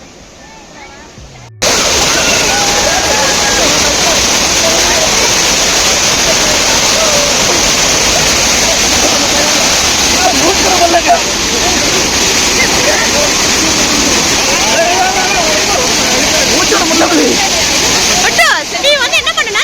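Kovai Kutralam waterfall gives a loud, constant rushing roar that starts abruptly and never lets up, with voices faintly audible beneath the crash of water.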